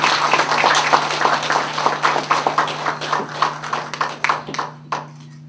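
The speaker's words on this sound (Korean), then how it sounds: "여러분 박수 부탁드리겠습니다" Audience clapping at a formal appointment ceremony, a burst of hand claps that thins into scattered, uneven claps and fades out, moderately close over a steady low hum.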